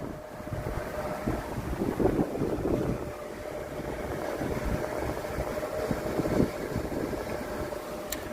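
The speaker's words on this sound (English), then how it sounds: "It's a little windy today in South Florida" Wind buffets the microphone outdoors in South Florida with a constant low rumble that swells and fades, steady throughout with no voices.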